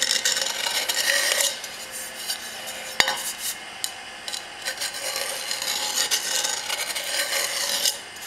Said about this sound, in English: a little deburring tool